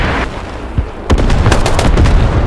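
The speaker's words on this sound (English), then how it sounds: "Let the artillery do the work" Artillery fire in the Squad video game on the Narva map: a rumbling start gives way to a rapid cluster of sharp, loud blasts and cracks.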